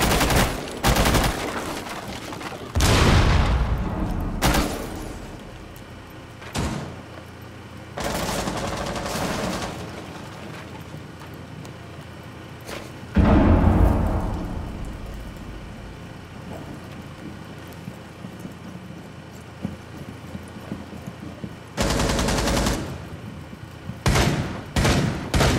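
Bursts of gunfire ring out in Rainbow Six Siege on the Oregon map, with loud, sharp volleys and single shots arriving irregularly over about twenty-five seconds and decaying tails between them, with no talking.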